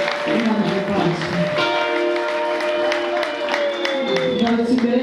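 A church congregation claps and applauds for God during a service, steady loud applause mixed with voices and tonal music.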